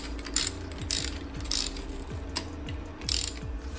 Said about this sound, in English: use the same nuts you took off your factory setting, and bolt all 4 bolts back down.